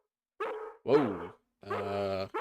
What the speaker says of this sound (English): Oh, that poor puppy. I heard that in the background.